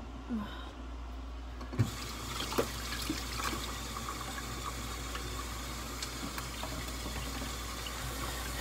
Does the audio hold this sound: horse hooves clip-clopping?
no